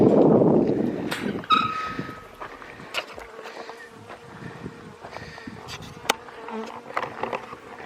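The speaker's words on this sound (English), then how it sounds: "I've actually got a few bees just following me" Honey bees buzz close around a beekeeper during a swarm catch, with loud droning near the start and then scattered passes of individual bees zipping by, joined by light footsteps and rustling.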